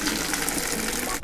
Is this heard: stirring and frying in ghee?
no